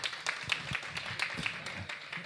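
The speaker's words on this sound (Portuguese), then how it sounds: "uma salva de palmas para ela" Applause from a youth council session audience at Colégio Americana greeting councillor Thalita Denadai, a steady patter of many hands clapping at moderate loudness throughout, with faint voices mixed in.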